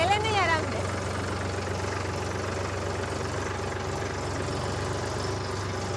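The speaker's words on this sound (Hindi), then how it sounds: "अभी तो मैं फर्स्ट गियर में ही चला रही हूँ" A Mahindra tractor engine running steadily in first gear, a low continuous chugging drone that stays even and close throughout.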